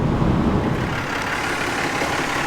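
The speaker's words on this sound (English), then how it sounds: "Hopefully you guys can hear the engine" Ram 3500 with a Cummins diesel engine running steadily, a continuous low rumble that stays loud and close throughout with no talking.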